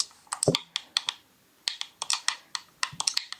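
Rapid keystrokes on a computer keyboard as a chat message is typed during a game, a close, crisp run of clicks in uneven bursts with short pauses, no voices.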